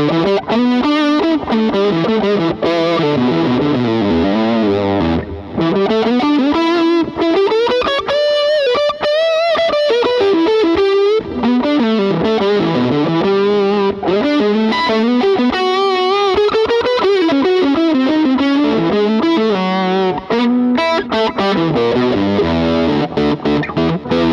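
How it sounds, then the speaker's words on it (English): An electric guitar through a Line 6 POD HD400 with fuzz distortion plays sustained, gritty chords and melodic lines, loud and continuous with a thick, saturated edge throughout. "clean with an edge. I've put a little fuzz on there"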